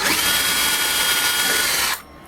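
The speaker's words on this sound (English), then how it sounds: "Just drill that little hole for the peg." A drill bores a small peg hole in turned wood for a hollowed bird house. The loud, close whine holds steady for about two seconds, then cuts off abruptly.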